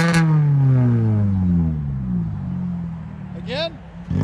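A straight-piped 2012 Hyundai Elantra downshifts, its engine drone falling in pitch and then surging in a brief rev near the end, loud and close with a person talking over it.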